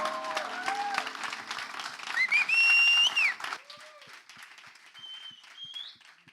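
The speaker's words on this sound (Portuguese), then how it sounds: "Dá uma salva de palmas ao Senhor" A church congregation at a Portuguese-language service applauds loudly in a dense wash of clapping, with sustained ringing tones above it, then fades to quieter room sound after about three and a half seconds.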